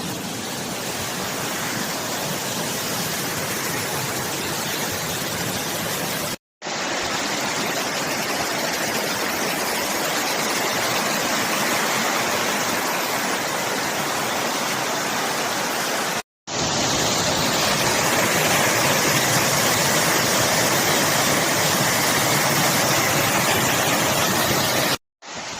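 Wren Gill, a Lake District stream near Sadgill, pours under a small bridge and down a big waterfall, a loud steady broadband roar of rushing water that fills the whole clip with only brief breaks.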